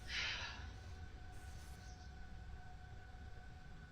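Trains run in the Factorio video game as a faint, steady rolling rumble with a thin sustained tone. A brief louder hiss comes at the start.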